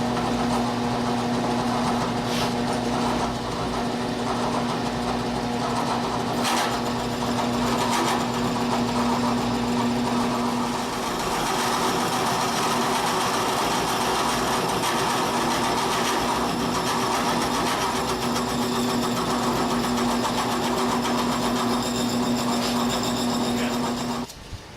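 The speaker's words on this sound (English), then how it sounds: "I've got a slitting saw set up in the milling machine" A milling machine cutting a slot with a slitting saw, a steady loud mechanical whir with a constant motor hum running throughout, alone and close, with small intermittent ticks.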